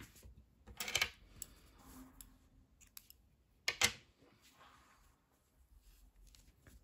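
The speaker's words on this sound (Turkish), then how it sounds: "İpliği kesiyorum" Scissors snip through yarn after a finished crocheted sock, two crisp close cuts with soft handling clicks and rustles around them in a quiet room.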